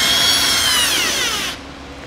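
A power tool spins off a fastener with a 7 mm socket on the outer edge of the front fascia of a 2020 Ford Explorer, a steady whirring drive for about 1.5 seconds that then cuts out, leaving quiet room tone.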